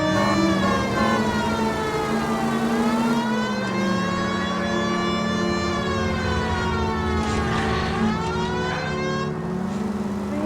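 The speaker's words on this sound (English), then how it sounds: "I have a siren, deal with it." A police car siren in the video game L.A. Noire wails loudly and up close, its pitch sweeping slowly up and down in long cycles with no talk over it.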